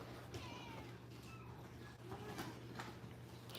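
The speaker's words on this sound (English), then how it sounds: "we have lots and lots of cats at Furball Farm Cat Sanctuary" A cat meows a few times at a cat sanctuary, the calls faint and somewhat distant against a steady low background hum.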